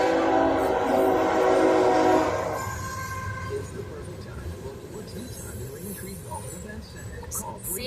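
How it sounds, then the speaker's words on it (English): A CSX freight train rolls through Rittman, Ohio, its horn blaring loudly for the first couple of seconds before giving way to the steady rumble and clatter of passing rail cars, with people talking nearby. "there's a train in Rittman."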